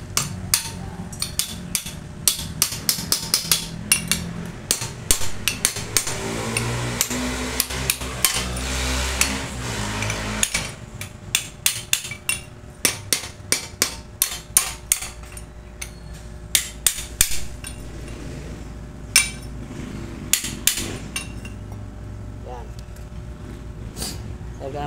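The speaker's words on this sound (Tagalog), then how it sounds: "Gagamit tayo martilyo." Sharp metallic hammer blows on a metal tube ring out in irregular bursts, with a stretch of grinding noise early on and repeated clanging strikes afterward.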